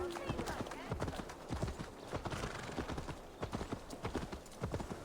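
Horse hooves clip-clop at a steady, uneven walking rhythm on the ground in Assassin's Creed Valhalla, fairly close and moderately loud, with a voice talking over parts of it.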